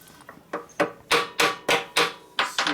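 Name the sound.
hammer striking a chisel while working on a 1988 Harley FXR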